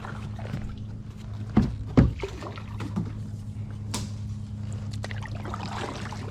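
A kayak paddles through a narrow mangrove tunnel in the Tampa backcountry, with a few soft paddle knocks and splashes against a quiet, trickling water background.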